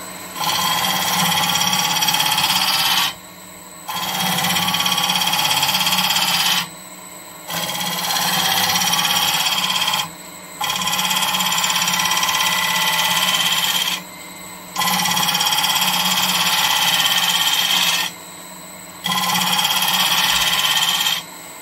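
A wood lathe making a finish cut on an olive ash bowl, a loud continuous scraping hiss from the tool on the spinning wood in several long passes of about three seconds, separated by short pauses.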